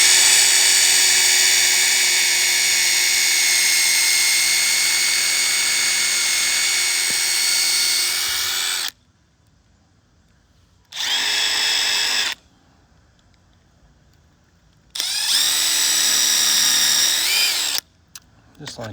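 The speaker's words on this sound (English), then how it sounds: "I'm going to drill a hole." A power drill whines at high speed drilling a pilot hole for several seconds, then stops; two shorter bursts follow with quiet pauses between, close and loud.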